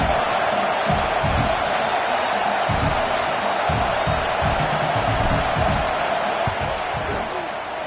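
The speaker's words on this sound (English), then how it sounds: "This crowd trying to do its part to get inside the kicker's head." A football stadium crowd roars loudly and steadily before a field goal kick at a Utah State at Notre Dame game, with a dense wash of noise and occasional bursts of cheering.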